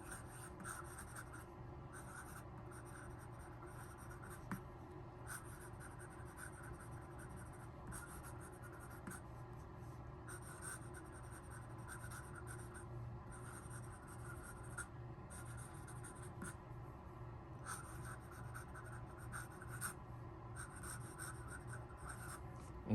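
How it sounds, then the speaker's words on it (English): Nib of a fountain pen moving fast across paper, a steady close scratchy rasp with brief lifts between strokes, continuous and quiet, no voices. "So the fast writing."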